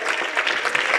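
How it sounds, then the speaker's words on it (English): A church congregation claps hands in a brief, dense burst of steady applause, close and full. "Clap them hands."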